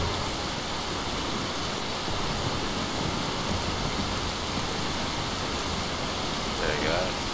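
Steady rain falling outdoors in the video game Skyrim, a dense unbroken hiss of rainfall filling the whole scene at an even level, with faint traces of a voice near the end.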